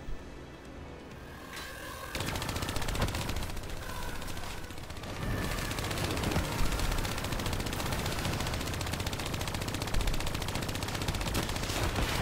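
Black Ops 3 Nightmare Mode mission gunfire rattles on almost nonstop, with dense bursts of automatic shots and heavier blasts layered over a constant roar of in-game combat noise.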